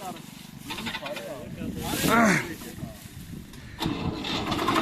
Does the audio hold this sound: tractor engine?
yes